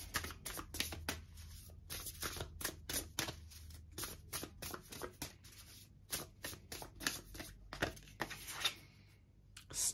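Tarot cards being shuffled by hand during a card reading. A long run of quick, crisp riffling and flicking bursts in an uneven rhythm, close and fairly quiet, with no talking.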